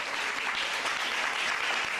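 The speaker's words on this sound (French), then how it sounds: "Montrez-moi que vous l'êtes à travers vos applaudissements." Steady, dense applause from an outdoor crowd at a rally in Gonaïves, Haiti, filling the whole moment with a continuous, even wash of clapping and no voices standing out.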